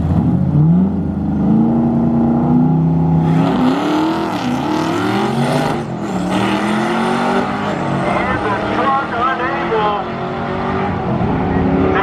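Drag race car with twin 76mm turbos and a Texas Speed 427 engine launching at a drag strip event, loud revving that climbs in pitch through several gear changes, close by, with a commentator talking over it.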